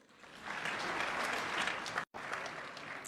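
Audience at a formal appreciation dinner for Botswana's national athletics team gives a sustained round of dense applause, moderately distant and fairly quiet, broken by a brief cut near the end.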